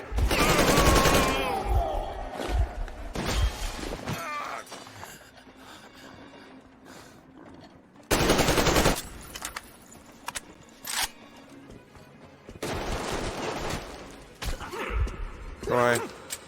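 Shotgun blasts in the video game Metro Exodus, loud bursts at the start, middle and end amid chaotic combat noise, with someone talking between the shots.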